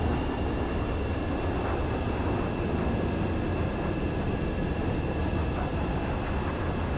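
Fighter jet landing on a runway in Ace Combat 7: Skies Unknown, a steady loud roar of engine and rushing air that holds evenly across seven seconds with no talking.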